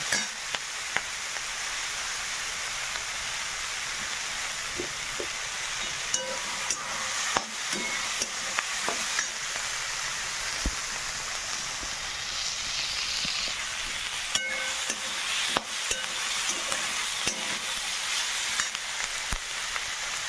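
Green tomatoes and green chillies roast in a hot wok for chutney, giving a steady loud sizzle throughout with intermittent scraping clicks and taps from stirring, and no voices.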